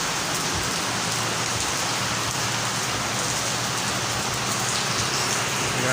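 Heavy rain pours down steadily in a dense, loud wash for the whole stretch, with no pauses and no voices over it.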